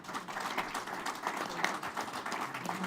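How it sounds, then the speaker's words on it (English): Quiet, scattered applause from a small group at a school district board meeting, a brief patter of claps in a meeting room heard at a distance without speech. "A round of applause"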